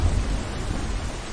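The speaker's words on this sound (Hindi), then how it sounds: "उसी दिन शाम को तेज बारिश फिर से शुरू हो गई।" Heavy rain pours steadily with a deep thunder rumble, a dense, loud wash of sound with no voices.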